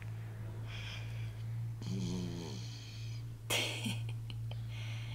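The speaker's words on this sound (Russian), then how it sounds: "Ты носом храпишь" A child snores through the nose, with a few drawn-out nasal snores and snorts over a steady low hum, close and quiet.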